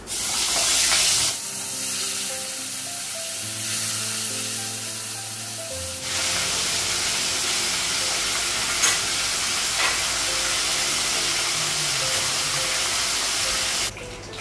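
Steady loud sizzling of food frying in hot oil, a continuous hiss with brief stirring shifts, close and without talk.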